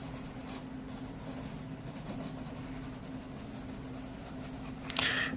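A soft 2B pencil writing on paper, producing a continuous, close scratchy rub with a brief brighter scrape near the end.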